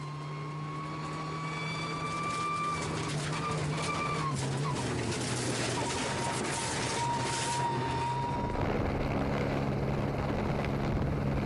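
Rally car engine at Rally Estonia, heard from the onboard camera: a steady, sustained drone with whining tonal harmonics that shift in pitch as the car accelerates, lifts and shifts, backed by wind rush throughout.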